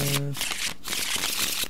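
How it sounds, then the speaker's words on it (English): A deck of cards being shuffled, a dense riffling rattle in quick bursts with a brief pause in between, close and fairly loud. "I'm just going to shuffle the deck."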